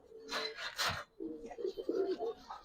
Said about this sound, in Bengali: একেবারে নিউ অ্যাডাল কবুতর